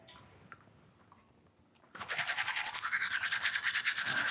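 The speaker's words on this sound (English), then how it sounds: "Let me go grab my toothbrush and we will give these a try." Toothbrush scrubbing teeth with a homemade toothpaste tab and a light layer of baking soda, a close, steady rhythmic bristle scrape that starts abruptly after a quiet lead-in and continues loudly to the end.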